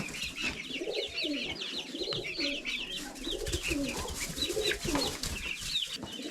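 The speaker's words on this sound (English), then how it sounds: "We have a small pigeon problem." Several pigeons coo steadily in overlapping, throaty murmurs, close by in a farm building with chickens, with a faint cluck or two mixed in.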